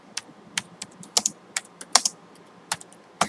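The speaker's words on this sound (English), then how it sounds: "first you go into your browser and type in Hour of Code" Fingers type on a computer keyboard in a quiet room, sparse irregular clicks and taps, about a dozen keystrokes close to the microphone.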